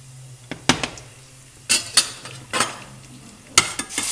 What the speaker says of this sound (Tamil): ஜீரகம், சோம்பு, கிராம்பு, 3 ஏலக்காய், அன்னாசிப்பூ, பிரிஞ்சி இலை எல்லாத்தையும் போட்டு கொஞ்சம் தாளிச்சிடும்.